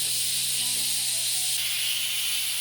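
An Instant Pot electric multi-cooker pressure cooking pork trotters in vinegar gives off a steady, continuous hiss of steam with a faint low hum beneath, unbroken throughout and growing slightly louder partway through.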